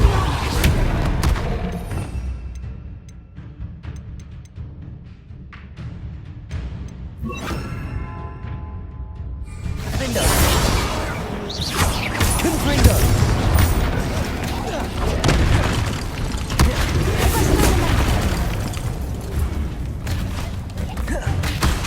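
Bombarda blasting-spell explosions during Hogwarts Legacy combat: heavy booms and rumbling impacts repeat across a busy, loud battle soundscape, with a voice talking over parts of it.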